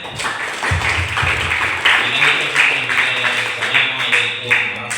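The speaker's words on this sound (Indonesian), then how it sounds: "Kita tepuk tangan semuanya." Applause from a school audience at a civic outreach session in a high school hall, a dense, steady clatter of many hands that lasts throughout, with a low hum underneath.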